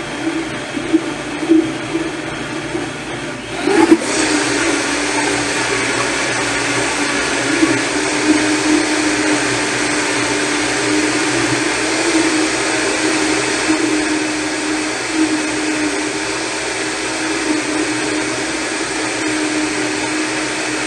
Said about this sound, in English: you don't need an expensive blender for this recipe